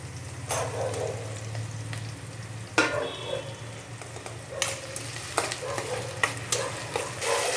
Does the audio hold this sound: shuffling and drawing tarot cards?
no